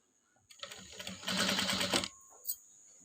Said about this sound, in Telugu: ఇలా పెట్టేసుకొని స్టిచ్చింగ్ అయితే వేసుకుంటున్నాను